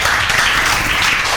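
Students in a classroom applaud a classmate named Lokraj Thakur, a steady dense wash of clapping filling the short moment without pause.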